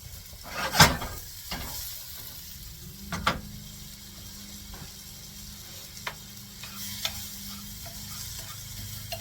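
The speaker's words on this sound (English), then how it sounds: "I'm going to be sauteing my vegetables." Vegetables and onions sautéing over medium heat in a pan, a steady low sizzle with occasional sharp clicks and scrapes from stirring.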